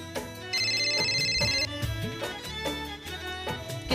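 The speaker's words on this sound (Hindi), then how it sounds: "किसका फोन है?" A telephone rings in a home, its steady electronic tone repeating for about a second over a background music score.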